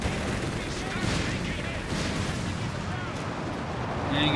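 White phosphorus artillery in Company of Heroes 3 pounds away in a dense, continuous barrage of booms and crackling fire, loud and sustained, with a voice talking over the battle.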